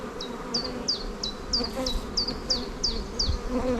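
Honeybees and drones buzzing on an open hive frame during a beekeeping inspection, a close, steady hum punctuated by a regular series of short, rising buzzy chirps about every third of a second.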